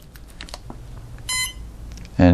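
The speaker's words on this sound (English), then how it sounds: "And you notice that's a single beep now." A Cobra ESC for an RC plane gives a single electronic beep on power-up with the brake set, a loud tone at the end after a brief fainter chirp and soft handling noise.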